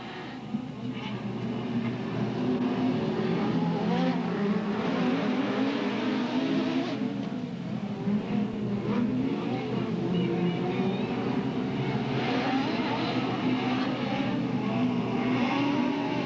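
Dirt track race cars at Delta Speedway roar off at the start of a heat race in 1996, a dense, sustained engine drone that stays loud and steady throughout with no speech over it.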